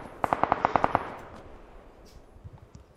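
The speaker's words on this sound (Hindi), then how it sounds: "गोली चला रहा है कोई गोली चला रहा" Automatic gunfire in the battle royale video game PUBG Lite, a rapid burst of about eight sharp shots followed by a fading echo and faint rumbling, with no talking.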